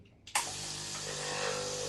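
A repaired Breville espresso machine dispenses hot water: after a quiet moment, a sudden click gives way to a steady, even stream of rushing water that continues to the end.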